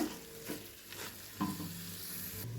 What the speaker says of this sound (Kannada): ಈಗ ಸೊಪ್ಪಿನ ಹಸಿ ವಾಸನೆ ಹೋಗೋ ತನಕ ಚೆನ್ನಾಗಿ ಹುರಿಬೇಕು ಇದನ್ನು